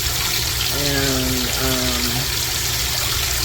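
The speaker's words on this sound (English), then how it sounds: "So it's filling up with this cold rinse water." A washing machine fills with cold rinse water, a steady rushing, trickling flow that runs throughout, with someone talking briefly over it.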